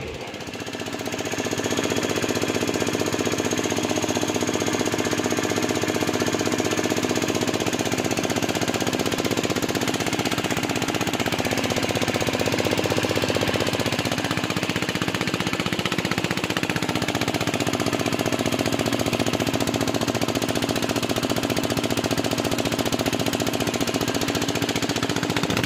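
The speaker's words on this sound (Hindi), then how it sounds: "अभी इंजन को स्टार्ट करते हैं।" Diesel engine burning biodiesel runs at a loud, steady idle with a rapid, hammering knock throughout, close by and unbroken for the whole stretch, with no voices over it.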